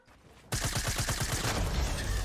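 Rapid burst of Fortnite gunfire, a steady string of about ten close, loud shots after a brief quiet start, continuing into a dense fusillade.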